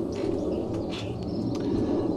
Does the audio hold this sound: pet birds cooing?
yes